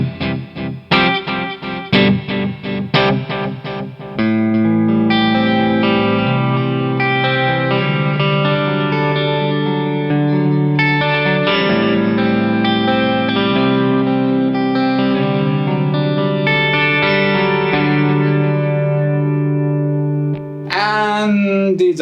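Electric guitar played through a mostly analog pedalboard, with semi-long delay repeats, heavy modulation and a shimmer-style reverb, rings out in sustained, layered chords after a few choppy strums, ending with a brief pitch-warbling swell.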